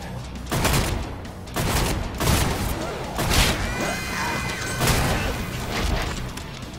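An AA-12 automatic shotgun in Killing Floor 2 firing in a rapid string of five or six heavy booming blasts, loud and close, each shot crashing into the next with metallic clatter between them.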